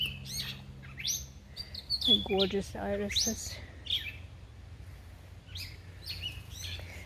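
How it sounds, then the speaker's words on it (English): An agitated bird chirps in sharp, repeated bursts in an outdoor flower garden with peonies and irises before a storm, while someone talks close by. "one of the birds is a little agitated"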